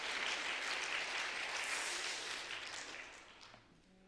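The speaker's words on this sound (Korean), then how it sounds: "우리 박수를 한번 환영하겠습니다" A church congregation claps to welcome a missionary pastor who serves in Congo, a dense, steady burst of applause that holds for a few seconds and then tapers away near the end.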